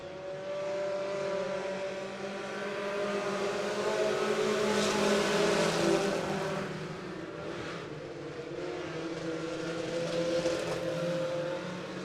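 Race cars in a heat race at Crawford County Speedway make a steady, distant roar that swells and fades as the pack circles the track, engines revving under a continuous rumble.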